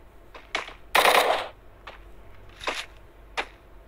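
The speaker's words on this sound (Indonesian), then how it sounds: "Ada suara peluru." Bullets fire in the mobile battle game Free Fire as several sharp, separate shots and one longer rattling burst, close and fairly loud, with quiet gaps between them and no talking.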